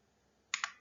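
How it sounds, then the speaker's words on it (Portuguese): Two quick plastic clicks of keys pressed on a calculator, close and crisp, coming about a tenth of a second apart after a near-silent pause. "basta pegar agora a calculadora e fazer os cálculos"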